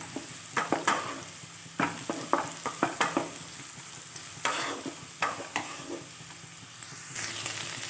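Carrots and beans being stirred in a frying pan with a steady sizzle underneath, a spatula scraping and tapping the pan in irregular bursts, close and clear with no talk.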